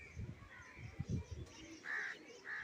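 Racing pigeons come down from a training flight over a Bengali rooftop loft, with soft low flutters and bird calls, a crow cawing faintly in the background, amid moderate ambient noise.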